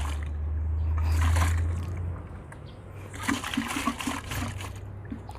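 Water is mixed into organic compost ingredients in a container. A close, rushing pour is followed by softer sloshing and trickling as the mixture is stirred.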